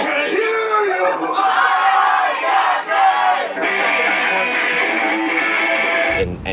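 A concert crowd yells a call-and-response chant in unison, loud, sustained group shouting with whoops rising and falling for several seconds before cutting off abruptly.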